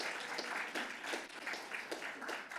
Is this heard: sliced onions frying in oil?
no